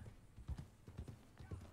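Horse hooves clip-clop at a steady walking rhythm in the video game Red Dead Redemption 2, several soft, close thuds spread evenly under a faint background bed.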